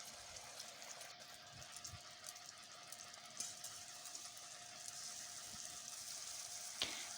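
Three beaten eggs with a little salt frying in hot oil in a wok (kadai) for egg chowmein, giving a steady soft sizzle with faint stirring scrapes throughout, no talk.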